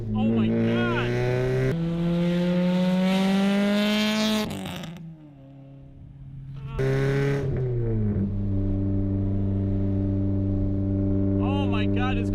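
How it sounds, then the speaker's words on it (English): An SR20-swapped Nissan Sentra SE-R engine revs hard and loud, its rising harmonic note climbing through a gear, dropping briefly at a shift, then pulling again, close and dominant, with people talking over it. "this car is so freaking loud"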